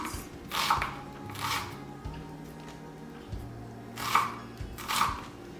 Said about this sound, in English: let's keep chopping the onions